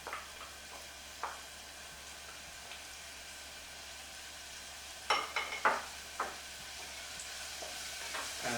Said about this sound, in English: The onion is now slowly glistening and frying